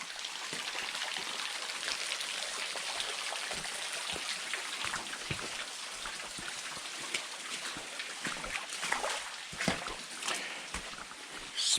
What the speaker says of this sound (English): Splash through a big puddle there, yuck.